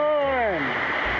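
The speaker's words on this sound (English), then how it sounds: "You've heard of river crossing, but what about waterfall crossing?" A waterfall on a snowy mountain trail during a snowshoe hike, a steady rushing wash of water heard close by, while a person speaks over it.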